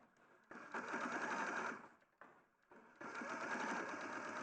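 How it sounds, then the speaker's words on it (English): A sewing machine stitches a short seam in two close bursts of rapid mechanical whirring separated by a brief pause, fairly loud and alone with no talk. "So you're literally only sewing 2 inches down."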